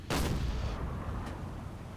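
A heavy gun blast in the Silent Hunter 4 naval game opens with a loud, deep boom, rolls out into a long low rumble, and a fainter second crack follows about a second later.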